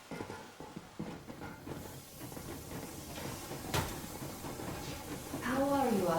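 The Yermak, a steam locomotive in the Metro Exodus video game, pulls away with a low rumble, hissing and rhythmic clanking that build over several seconds, mixed with people talking.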